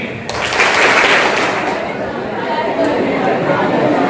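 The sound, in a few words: students clapping in a school hall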